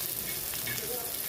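Onion and garlic tempering frying in hot oil for a Maharashtrian dish, giving a steady, close, dense sizzle with no talking.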